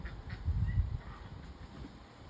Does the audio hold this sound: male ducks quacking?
yes